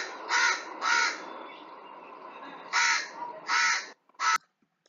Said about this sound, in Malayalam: ഇത് കാക്കയുടെ ശബ്ദമാണ്.